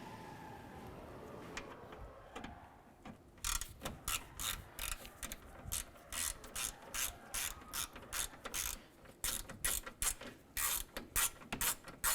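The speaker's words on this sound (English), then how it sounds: "Using our number 5 Allen key and our ratchet, we're going to remove this screw here and this one here." A ratchet turns a number 5 Allen key to remove grille screws on a 2006–2008 Honda Civic, giving close, crisp rhythmic clicking in repeated bursts with short pauses between strokes.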